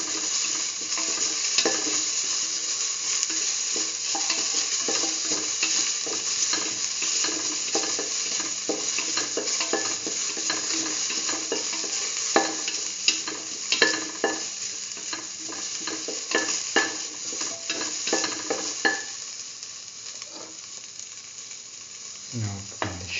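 Onions sautéing in a hot pan for a cauliflower and chayote rice dish, a constant bright sizzle broken by frequent scraping clicks of a spoon stirring against the metal, close and loud with no talking.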